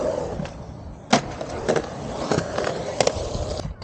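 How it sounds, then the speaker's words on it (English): Skateboard wheels roll across skatepark concrete with a steady rumble, broken by sharp clacks and thumps as the board pops and lands on a small fun box. "I'm gonna try to skate this little fun box thing"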